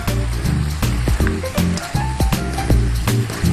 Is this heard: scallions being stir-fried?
yes